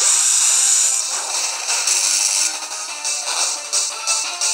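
Shock Wave, an electric attack in Pokémon White 2, crackles as a bright buzzing zap that pulses in several bursts before fading back.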